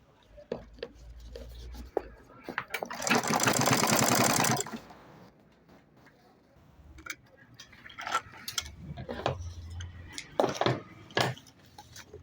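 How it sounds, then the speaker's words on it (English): A sewing machine top stitching a crossbody purse runs in one loud, dense burst of about two seconds, with scattered clicks and handling knocks around it and faint background noise, close by and without speech. "the next thing I'm going to do is I'm going to top stitch."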